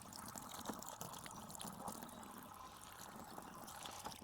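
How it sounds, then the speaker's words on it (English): Water pours steadily into a container for a small solar-powered hydroponics setup, a continuous faint trickle and splash running without pause and with no voices. "Now my goal right now is I'm filling up this water"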